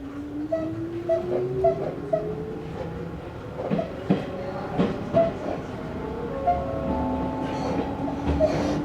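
Izuhakone Railway 3000 series train running between Mishima and Shuzenji, with a steady rumbling motor whine that rises in pitch and regular clacks of wheels over rail joints, heard from inside the carriage.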